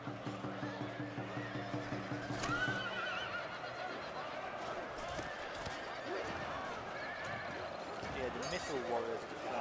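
Horses neigh and whinny amid a massive cavalry and infantry clash in a Total War battle, with repeated whinnies and hoof clatter rising over a dense din of combat, under someone talking.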